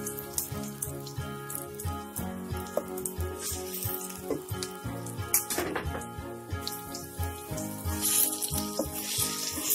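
Banana pieces are sautéed in a frying pan for stuffed bananas. A steady sizzle runs under prominent background music, broken by occasional stirring clinks.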